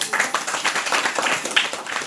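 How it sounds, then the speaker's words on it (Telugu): Audience clapping at a primary school parents-teachers gathering, a short run of uneven, moderately loud claps from a small crowd lasting about two seconds. "Claps once."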